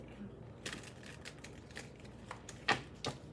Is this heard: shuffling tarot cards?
yes